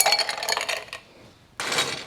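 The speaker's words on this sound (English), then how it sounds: "I'm just going to top it up with lots and lots of ice" Ice cubes tumble into a gin and chai cocktail glass, a bright clinking rattle that stops briefly and then resumes as more cubes are dropped in, close and alone.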